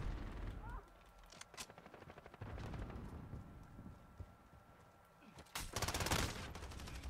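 Gunfire in Call of Duty Modern Warfare multiplayer: sharp, close shots and short bursts cracking through the clip, with a heavier cluster of rapid fire near the end, mixed with game noise.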